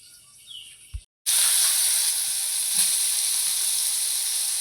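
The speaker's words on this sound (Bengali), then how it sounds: "সয়াবিনটা ভেজে নিচ্ছি" Soybean chunks hit hot oil in a pan after a quiet moment and a brief cut, setting off a loud, constant hissing sizzle that holds steady to the end.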